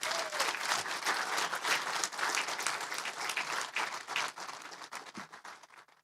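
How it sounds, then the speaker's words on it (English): A lecture audience gives the speaker a sustained round of dense applause from many hands. The clapping is steady and fairly loud, fades slightly toward the end, and has no voices over it. "Ladies and gentlemen, our speaker deserves another round of applause."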